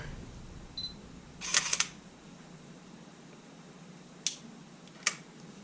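A Sony A7R mirrorless camera with a rough-sounding shutter fires several times in a quiet room: a double mechanical clack early on, then two more single snaps spaced apart, close and crisp.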